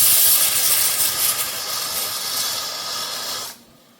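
Lentil water spills into a rocket stove flame, giving a loud, steady steamy hiss that fades gradually, then cuts off abruptly near the end, close by with no speech.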